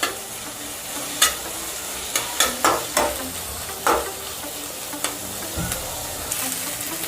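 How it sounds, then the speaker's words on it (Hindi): Ginger garlic paste sizzles steadily as it fries in a pan for brinjal masala. A spoon stirs it with a series of close, sharp scraping strokes over the continuous frying hiss. "अब हम इसमें डालेंगे अदरक लहसुन का पेस्ट, 1 चम्मच। इसको अच्छे से चला देंगे।"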